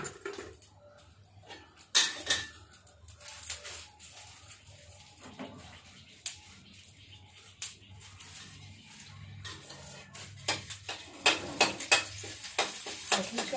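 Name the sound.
stir-frying spicy beans in oil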